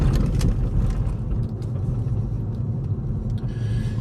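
A used car on a test drive in Silver City, heard from inside as a loud, steady engine and road rumble, with no talking.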